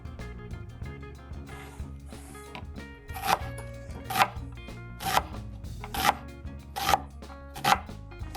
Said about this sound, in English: We slice some red onion and we'll slice some ginger.